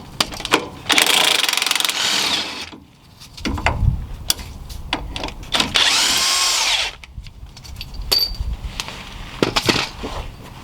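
A power tool loosens the 15 mm bolts under the front control arm of a 2015-2020 Chevy Suburban or Tahoe, heard as several loud, close bursts of whirring and rattling impact, separated by brief clanks and pauses.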